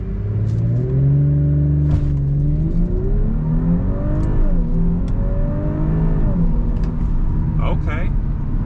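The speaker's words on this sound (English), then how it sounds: "We're gonna see if it launches hard, because I know these Audis do launch pretty good." A 2018 Audi S5 Sportback launches hard under launch control, its engine note climbing loudly, then dropping briefly at a quick upshift before rising again, heard from inside the cabin.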